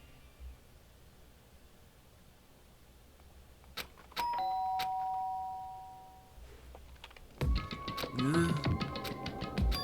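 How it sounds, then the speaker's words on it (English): A synthetic doorbell chime rings out in the video game Danganronpa: Trigger Happy Havoc, followed by a longer electronic ding-dong tone, with clicky keyboard-like taps and faint background hiss. "Did I hear the doorbell?"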